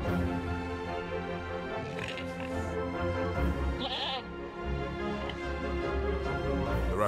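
Sheep bleat repeatedly in the Animal Farm video game, several calls overlapping over a steady musical background, fairly close and continuous.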